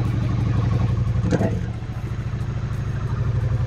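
A Triumph Street Cup motorcycle engine idles nearby with a rhythmic, throbbing putter and a brief clatter partway through.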